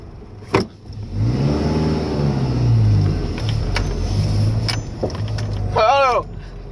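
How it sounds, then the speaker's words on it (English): Truck engine revving hard while starting uphill in first gear, a loud rising and falling engine drone close by for several seconds, with a voice talking near the end. "I revved my engine up a lot."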